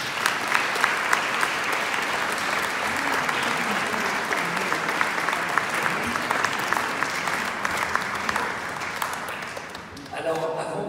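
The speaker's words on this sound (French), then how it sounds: "Alors, on peut encore applaudir Kagan." A church audience applauds through a sacred-night concert event in Paris, steady dense clapping that fills the space for about ten seconds before thinning and tapering off at the end.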